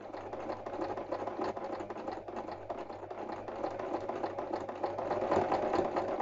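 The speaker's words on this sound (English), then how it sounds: "I'll need to machine over, so I just tend to go sort of very slowly" A sewing machine stitches slowly over ribbon on a quilted fabric hanging, producing a close, steady mechanical whirr with rapid needle clatter that speeds slightly toward the end.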